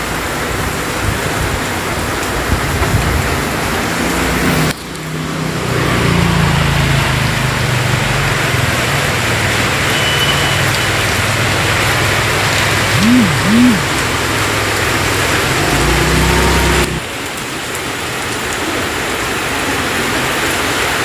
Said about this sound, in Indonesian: Itu juga hujan.